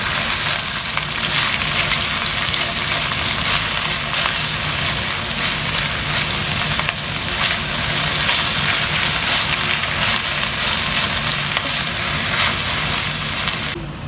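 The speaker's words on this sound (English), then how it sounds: "the paneer now has kind of fried itself" Boiled paneer fries in a pan over a high flame, giving a loud, steady, dense sizzle and crackle that carries on without a break.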